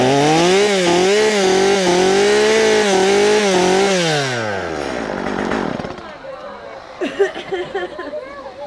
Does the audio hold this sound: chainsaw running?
yes